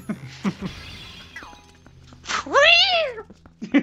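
In the video game Twilight Princess, a pot shatters with a brief crash in the Gerudo Desert. Other game sounds surround it, including a rising, meow-like cry.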